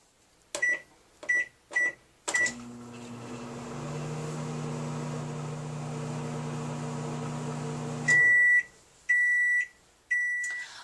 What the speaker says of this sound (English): I'm going to put them back in the microwave for another 15 seconds